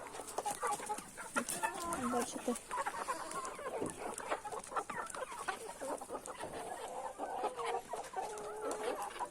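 Chickens and roosters in a small family farmyard cluck and squawk steadily at close range, with a person speaking briefly among them.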